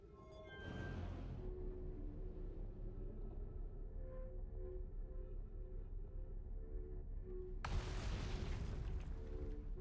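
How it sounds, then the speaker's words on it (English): Repeated deep booms and rumbling blasts from explosions in the space exploration game Outer Wilds, a sustained loud roar with a sharp burst near the end and no talking. "Stop exploding."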